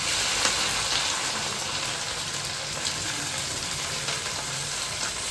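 Green chillies sizzle and spit steadily in a hot pan of oil, a continuous close frying hiss with faint crackles throughout, no voices.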